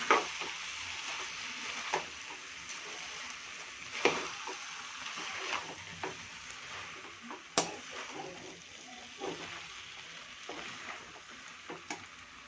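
Homemade egg noodles being stirred and tossed in a pan, soft sizzling under repeated scraping and clinking strokes every couple of seconds, fairly quiet with no talking.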